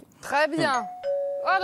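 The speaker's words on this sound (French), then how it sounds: "alors ça, c'est la sonnette pour dire que ça y est" A doorbell rings in a chef's home kitchen with a two-tone ding-dong chime, and a sustained tone lingers between bursts of French speech.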